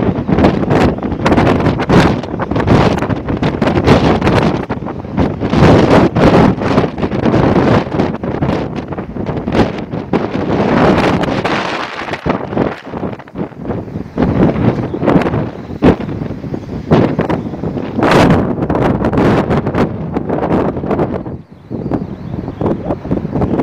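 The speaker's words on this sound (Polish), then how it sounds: "Coraz mocniej wieje." Strong wind roars and buffets the microphone in loud, gusting surges, with brief lulls and rustling, around a truck stop at Le Caylar, France; no one speaks.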